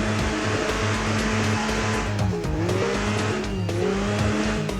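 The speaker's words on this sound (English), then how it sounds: "Getting a bit of a rev there. Four-wheel drive, putting it through its paces." A four-wheel drive off-road vehicle in Overpass revs steadily with a loud, continuous engine drone that rises and dips, with tire scrabbling over rough ground throughout.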